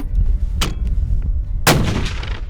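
Two sharp, loud rifle shots fired outdoors while zeroing the rifle at a range in outback Augathella, Queensland, each crack followed by a short rumbling echo.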